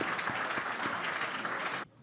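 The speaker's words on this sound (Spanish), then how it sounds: "un fuerte aplauso también al doctor Alberto Pachila" Warm applause from an audience at a criminal law lecture fills the room steadily, then cuts off abruptly near the end into near silence.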